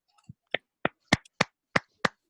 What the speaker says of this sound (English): just unmute your mic and please give him a round of applause